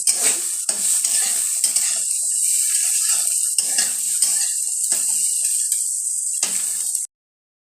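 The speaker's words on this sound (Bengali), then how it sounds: "এবার ভালো করে নাড়াচাড়া দিয়ে নেব" A spatula stirs fried egg and vegetables in a hot pan, giving continuous sizzling with repeated scraping and clinking strokes against the metal, close and loud, with no talk.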